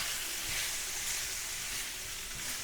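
Samosa filling of lightly broken potatoes is stirred in a hot pan, a soft continuous sizzle and hiss with faint scraping under it, close and without voices.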